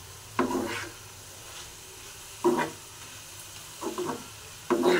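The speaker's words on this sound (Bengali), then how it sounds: "ভালো করে একটু মিশিয়ে দিই মশলাটার সঙ্গে।" Potato and broccoli with spices are stirred in a sizzling pan, with four distinct bursts of utensil scraping over a low, steady fry.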